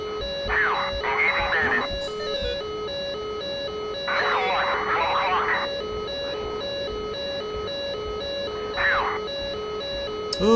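Warning tones from a fighter jet cockpit in the DCS flight simulator: warbling electronic bursts repeat three times over steady tonal hums, fairly loud and close, with no talking.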